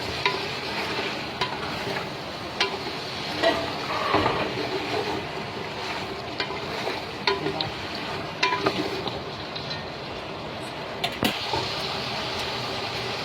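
Potatoes tossed into frying mutton for Sindhi biryani, with steady sizzling and repeated stirring scrapes and clanks in the pot, moderately loud and continuous with no talking.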